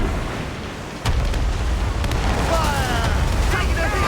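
Ship cannons from an Assassin's Creed Rogue naval battle boom against ice: a loud blast hits, then a sustained rumbling roar with further thuds and crackling debris.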